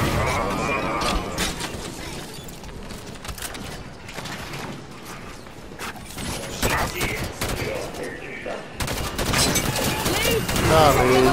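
Rapid submachine gun fire in the shooter game Halo 5: Guardians, dense crackling bursts running through the whole stretch amid explosions and other battle noise, loud and close.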